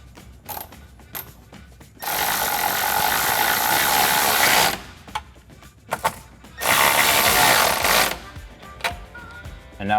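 A power tool with a 10mm socket tightens the side step bar bolts on a Toyota Tacoma in two sustained loud whirring bursts, separated by short clicks and handling noises.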